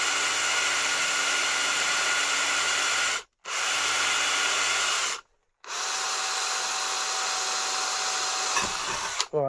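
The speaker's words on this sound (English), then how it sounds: "For some reason this drill bit's getting a bit blunt" A power drill with a blunt bit grinds into a workpiece in three long, steady bursts separated by brief pauses, close and fairly loud.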